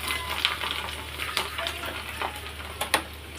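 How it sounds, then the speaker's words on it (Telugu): Coloured finger papads fry in hot oil in a pan, giving a steady close sizzle with scattered bright crackles and pops, a few sharper bursts standing out against the continuous bubbling hiss. "ఆయిల్ హీట్ అయింది, పాపడ్స్ వేసాలి. ఇలా పాపడ్స్ ఇలా కాల్చాలి."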